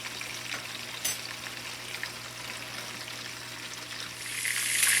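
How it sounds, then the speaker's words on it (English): A roast searing in a pan on the stovetop for a home Sunday dinner, giving a steady, fairly quiet crackle and hiss that swells louder toward the end, with a low steady hum underneath. "we're gonna sear our roast on both sides"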